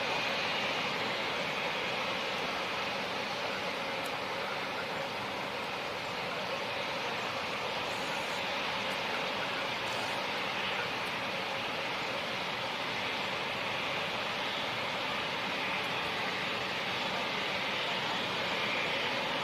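An ITA Airways Airbus A220 at London City Airport produces a continuous, even jet roar that fills the whole stretch without letup.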